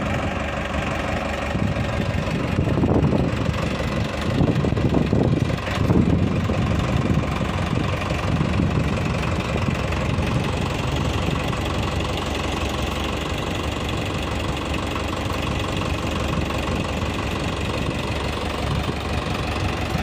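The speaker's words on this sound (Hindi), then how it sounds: "ये न्यूट्रल रेस पे चल रहा है, बिल्कुल स्लो रेस पे, कोई एक्सीलेटर नहीं दे रहे हैं" A 2021 Farmtrac 6055 tractor fitted with a front loader idles in neutral at low revs, giving a steady, close diesel rumble with a slight knocking texture that runs on unchanged throughout.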